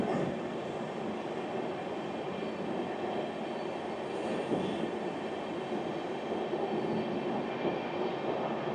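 An Indian Railways train runs through long hill tunnels on the new line toward Sairang in Mizoram, giving a steady, enclosed rumble of wheels and carriage noise that holds close and even throughout, with no talk.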